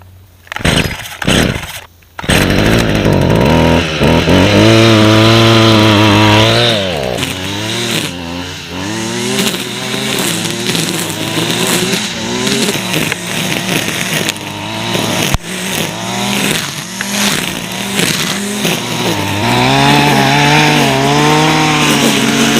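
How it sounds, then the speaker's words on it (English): Gas-powered string trimmer clearing a circle of grass and leaves in woods, loud and close, with the two-stroke engine revving up and down repeatedly and its pitch wavering as the line cuts through growth. "I've got this weeder. I'm going to clear out probably a 3 or 4 foot circle right in here."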